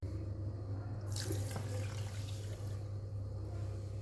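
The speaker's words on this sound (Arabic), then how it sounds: "هضيف عليهم كوباية مية واحدة، يبقى كوبايتين من السكر عليهم كوباية مية" Water runs and splashes steadily into a container of sugar, a soft continuous pour over a low background hum.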